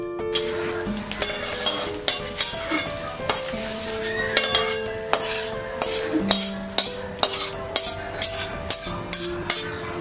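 Egg being scrambled in a little white oil in a wok, with sharp repeated clanks of a spatula against the metal over a continuous sizzle, loud and close.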